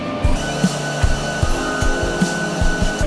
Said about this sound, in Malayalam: അവിടെ നിന്നും പ്ലക്കർ മെഷീന്റെ സഹായത്തോടെ അവയെ ചെറിയ നാരുകളാക്കി വലിച്ചെടുത്ത് പൈപ്പുകൾ വഴി ബ്ലോറൂം മെഷീനിലേക്ക് എത്തിക്കുന്നു